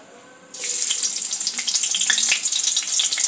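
Sliced onions hit hot oil alongside fried chicken, a loud hissing sizzle bursting in after half a second and holding steady and close, with faint scraping stirs underneath.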